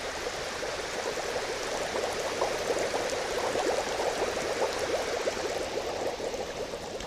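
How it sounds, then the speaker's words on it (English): Air bubbles rise steadily through water in a tank, producing a continuous dense fizzing and gurgling wash, even in level and close, with no voices. "As I increase the amount of bubbles, the ball will sit deeper in the fluid."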